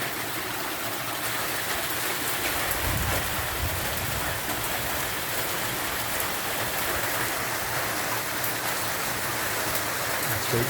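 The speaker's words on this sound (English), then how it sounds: "it's really pouring down with rain at the moment" Heavy rain pours down steadily at night, with water running off nearby roofs and flooding a patio, a dense continuous hiss that stays loud and even throughout with no voices.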